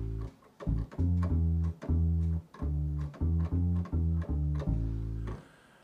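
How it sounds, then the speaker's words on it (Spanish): Bass preset from the Essential Bass Guitars library in FL Studio playing a short, punchy riff of repeated low notes in a bouncy rhythm, clear and alone with no talking. "Para el bajo voy a utilizar este preset de la librería Essential Bass"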